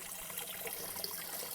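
Dark compost tea made from weeds and duck water is poured onto onions in a homestead garden, giving a steady, close liquid splash and trickle with no talk.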